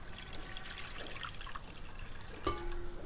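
Water trickles and pours into a large pot while dahi vada are prepared, a soft, steady stream that is faint and close, ending with a small clink, with no speech.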